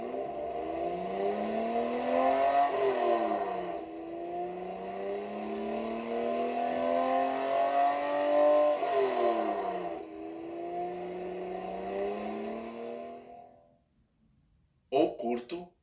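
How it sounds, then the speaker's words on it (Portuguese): A car engine runs while the vehicle moves, a steady whirring drone whose pitch climbs in several long sweeps like gear changes, then cuts off near the end before a brief burst of other sound. "Um som pode ser longo, como o do motor de um automóvel em movimento."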